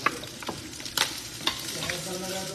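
Garlic and onion sautéing in oil, a continuous close sizzle with several sharp stirring scrapes at the start and middle.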